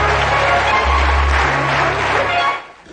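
A live comedy show audience breaks into loud, dense applause that holds steady before fading out at the end.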